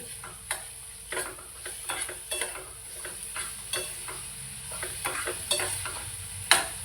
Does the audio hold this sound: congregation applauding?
no